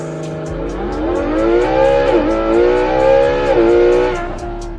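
A sports car engine with the biggest motor among footballers' cars revs loudly and close up, its pitch climbing and dipping through several throttle blips over a steady low rumble, with no voices.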